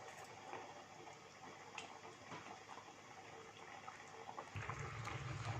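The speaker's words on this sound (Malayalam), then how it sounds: "ഇപ്പോൾ കണ്ടോ നന്നായിട്ട് നമ്മുടെ ബീഫ് തിളയ്ക്കുന്നുണ്ട്." Beef curry boils in a pot in a Kerala kitchen, giving a soft, steady bubbling with small pops, and a louder burst of bubbling near the end.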